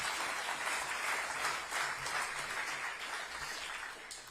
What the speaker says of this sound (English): if I can have another big round of applause for Summit,